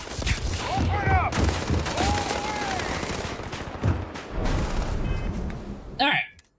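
Gunfire in the video game Starfield during a gunfight, with dense rapid bursts of loud shots and bangs filling most of the clip, under excited talk and stopping abruptly near the end.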